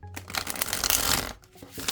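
A tarot card deck is shuffled by hand up close, a quick papery swish and rustle of cards sliding together, swelling in the middle and ending in a final burst.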